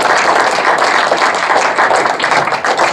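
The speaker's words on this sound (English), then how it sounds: "let's give a round of applause" Audience applause after a talk by a retired lieutenant colonel reflecting on his military career: a loud, dense, steady wash of many hands clapping from a close crowd, with no talk.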